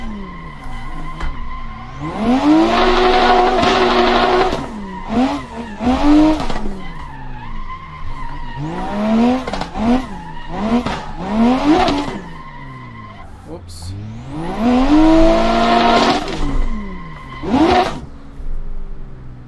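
A street-tuned Nissan 350Z drifts in the Assetto Corsa racing game, with loud rising and falling engine revs and long tire squeals in repeated bursts, and a voice talking at points over it.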